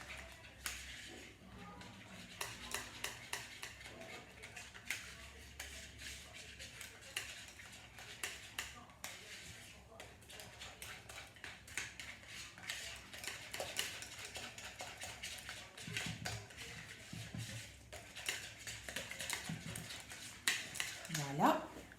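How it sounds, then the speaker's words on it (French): A spatula stirs caramel into mascarpone, giving soft, rapid scraping and tapping against the bowl, close but quiet, with a voice talking over it now and then. "vous allez mélanger votre caramel avec la mascarpone"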